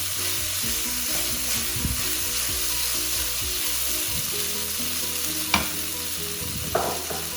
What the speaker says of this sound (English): The sago goes in. Just give it a nice stir.